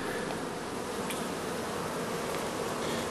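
Steady, dense buzzing of many honey bees around their hives, close by, continuous and even throughout with no voices.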